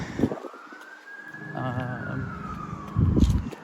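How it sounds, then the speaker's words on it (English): A siren wails in a long rising-and-falling tone, moderately distant, with brief rumbling and noise bursts around it. "the siren's wanting to go off right now"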